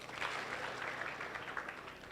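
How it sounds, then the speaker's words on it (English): A congress audience claps for invited guests at an education and leadership event, a steady, fairly faint wash of many hands that holds evenly throughout, with no talking over it. "Let's give a clap to our guests"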